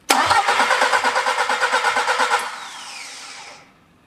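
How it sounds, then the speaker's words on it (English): A car engine mounted on an engine rig is cranked by the starter, with fast, even, rhythmic pulses for about two seconds before it winds down and fades. The sound is close and loud. "I'm cranking the engine."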